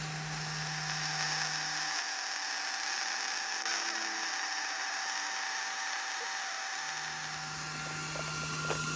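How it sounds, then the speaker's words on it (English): A bore welder building up weld inside CAT 637 hitch parts gives a steady mechanical whine and hum, with a low drone dropping out midway and returning, close and continuous with no talk. "we got this welded out with the bore welder"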